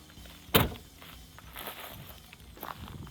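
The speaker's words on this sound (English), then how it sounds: "Just need to turn off the light and shut the doors." Camper van doors are shut: one sharp, loud slam followed by a quieter thunk and faint movement, close by with no speech.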